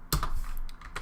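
Several keystrokes typed on a computer keyboard while writing CSS code, a few quick close clicks spread over about a second with no talking.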